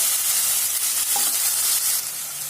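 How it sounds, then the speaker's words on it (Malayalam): Shallots sauté in hot oil with ground pepper, cumin, garlic and green chilli paste for South Indian tomato rasam, a steady close sizzle with a brief stir scrape, no voice. "എന്നിട്ട് നന്നായിട്ടൊന്ന് വഴറ്റി കൊടുക്കുക."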